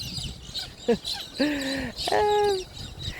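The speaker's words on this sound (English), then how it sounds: "aren't the birds another indicator of it's going to rain" Outdoor birds calling, a few distinct tonal calls and chirps at close to middle distance over light background noise, with a voice talking at times.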